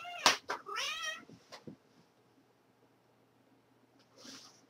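A house cat meows close by, two or three quick calls at the start, then quiet, with another short meow near the end.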